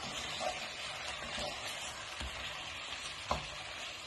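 Coriander, pepper, salt and paprika sizzle and fry in a pan on a gas stove, a steady close hiss with a few soft stirring scrapes and no voices.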